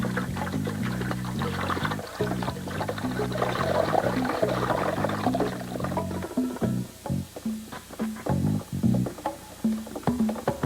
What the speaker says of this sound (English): then just pour the whole thing right into the bowl.